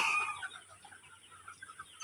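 Sonali chickens cluck softly with a few scattered calls that rise and fall over about two seconds, faint and fairly distant.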